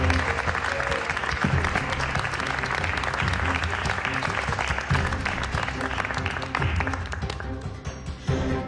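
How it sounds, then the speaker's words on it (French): Audience applause after the man named Eiffel is called out in a mystery play at the Eiffel Tower, dense steady clapping throughout with crowd noise, fading slightly near the end. "Monsieur Eiffel, on peut l'applaudir."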